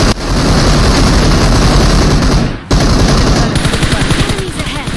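Rapid automatic gunfire from the PUBG Mobile battle royale game, loud and close, in dense continuous bursts that stop for a moment and then come back as a more separated rattle of shots.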